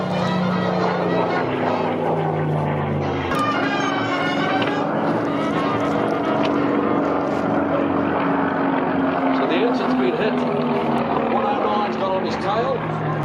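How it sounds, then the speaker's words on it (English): A Spanish-built postwar Messerschmitt ME-109 with German airframe and Rolls-Royce Merlin engine flies at the Warbirds Over Wanaka airshow, its steady propeller drone loud and continuous, with the pitch shifting as it passes and a commentator talking over it. "The ME-109 here was manufactured in Spain after the war, using German airframes, but with a Rolls-Royce Merlin engine installed."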